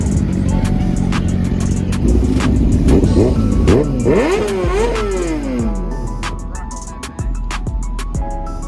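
Motorcycles arriving at a motorcycle event, engines revving and rising in pitch as bikes roll past close by, with crowd noise and voices mixed in.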